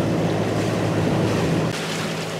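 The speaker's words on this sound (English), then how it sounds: "As we motored out the cut into the Atlantic Ocean, we were greeted by a mild wind and gentle swell" A boat motors through gentle Atlantic Ocean swell off Great Exuma in the Bahamas, with a mild wind, giving a loud, steady wash of water and wind rush with a low engine hum and no voices.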